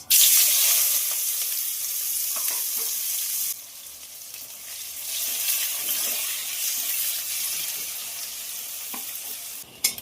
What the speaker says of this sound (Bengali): তেলে ফোড়নে দেবো কালো জিরে দেবো কেটে রাখা পেঁয়াজ